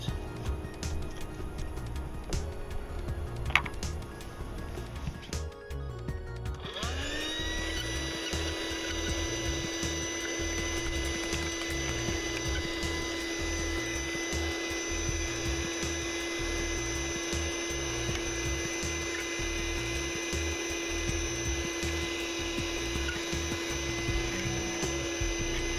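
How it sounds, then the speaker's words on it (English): A vacuum cleaner drones steadily, sucking up teak sawdust around a sailboat's mast base, starting up after a few seconds of clatter and holding a loud, even whine to the end. "Vacuum, get rid of this sawdust first."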